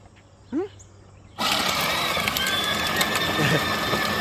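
A Jeep Power Wheels ride-on toy converted to 20V motors, with Stage 5 gears and a brake reduction module, drives in slow gear. After a short rising vocal chirp, a loud, steady motor and gear whine starts and continues to the end.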